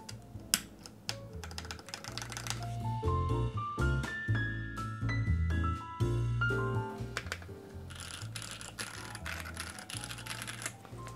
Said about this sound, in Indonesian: Sekarang kita pasang keycaps-nya lagi.